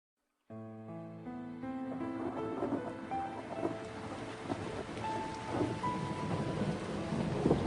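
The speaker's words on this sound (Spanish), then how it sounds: "Llueve, el mundo se llena de sombra, gotas de lluvia amargas como hielo, se abaten impunes sobre los campos yermos." Heavy rain pours steadily in a thunderstorm, with deep rumbling thunder rolling underneath throughout and a slow swell toward the end, loud and close with no voices.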